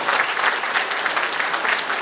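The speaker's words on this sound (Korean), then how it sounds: "여러분 박수 보내주십시오." A crowd at a Korean political event backs a party leadership bid with dense, steady clapping that runs loud and continuous for two seconds and has no talk over it.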